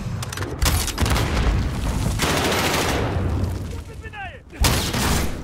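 Grenade blast and gunfire in Call of Duty: Modern Warfare, with loud booms and crackling shots running throughout and a player talking over the battle noise.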